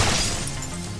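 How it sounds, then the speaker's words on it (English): Grenade blast in the video game Mass Effect 3, a loud, close crashing burst with a shattering, debris-like tail lasting about a second. "that's a grenade"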